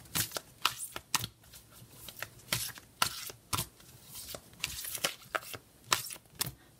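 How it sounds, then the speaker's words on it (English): Oracle cards are shuffled by hand in a close, quiet room, giving a steady run of soft, crisp riffling slaps and flicks in irregular bursts, with no talking. "So I'm just going to go ahead and shuffle."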